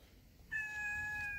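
A baby cat gives one drawn-out, fairly faint meow that starts partway through, set against quiet outdoor background noise.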